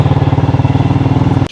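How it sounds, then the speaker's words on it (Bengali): A motorcycle engine throbs loud and close in a steady rapid rhythm for a moment, cutting off abruptly at the end; no talk. "ভাই আমার পেছনে মোটর সাইকেলে যাচ্ছে।"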